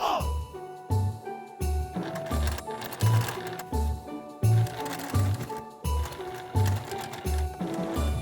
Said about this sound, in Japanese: タブ用の布6センチ ×6 センチを4つ折りにして両端にミシンステッチを入れます。